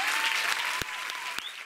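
Audience applause at a gala crowning the year's king and queen in Albelda de Iregua, a steady wash of clapping held at a moderate level throughout, with a few sharper claps standing out.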